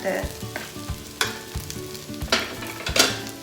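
Lao-style fried noodles (kua mee) sizzle in a hot pan while being stirred and pulled apart, with repeated scraping and tossing strokes over a steady frying hiss, fairly close and without talk.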